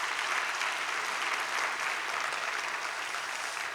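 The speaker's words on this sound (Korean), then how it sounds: "하나님께 영광의 박수 한번 올려드리도록 하겠습니다" A church congregation applauds in a steady, full wash of clapping that keeps up evenly for several seconds with no voices on top.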